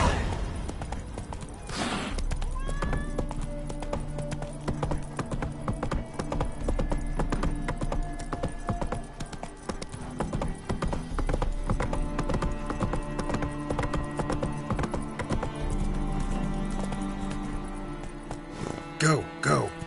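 Geralt's horse Roach galloping in Witcher 3, a fast steady drumming of hooves throughout, close and prominent, with game music and effects underneath and a brief snort near the start.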